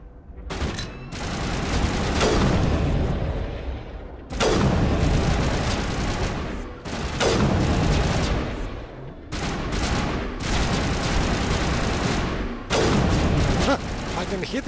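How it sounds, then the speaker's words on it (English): Repeated heavy sniper rifle shots in Mass Effect Legendary Edition on Insanity difficulty, five or six loud booming blasts spaced a couple of seconds apart, each with a long rumbling tail. "Could actually use the sniper rifle here."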